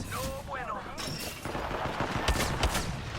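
Loud rapid gunfire in the battle royale game Apex Legends, with dense cracking shots and booms, especially in the second half, over game sounds and a brief voice early on.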